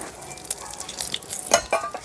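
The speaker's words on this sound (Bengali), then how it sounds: "তেজপাতা, শুকনো লঙ্কা আর একটু গোটা জিরে" Bay leaf, dried chili and whole cumin crackle and sizzle in hot oil while tempering a spicy fish curry, a steady close fizz broken by a few louder pops and light clinks of a stirring utensil.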